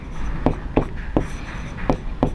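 Writing strokes on a board during a maths lesson tap and scratch in short, evenly spaced bursts, close and moderately loud.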